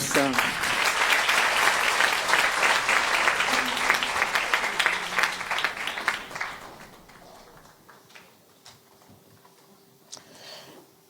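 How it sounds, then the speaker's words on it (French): An audience at an evening event applauds a woman being welcomed on stage: loud, dense clapping for about six seconds that tapers off, leaving a quiet room with a faint hum and a few scattered sounds. "Je vous demande d'applaudir Keltoum Defous."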